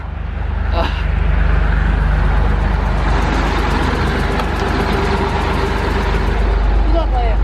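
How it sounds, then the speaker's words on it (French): A large truck stopped beside a highway with its engine running, giving a loud, steady low rumble close by throughout, with a brief voice heard near the end. "Un camion s'est arrêté, on va voir où est-ce qu'il va."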